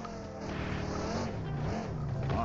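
Car engine in the mobile shooter Free Fire, a steady buzzing drone like an electric hair clipper with shifting pitch, continuous and fairly close.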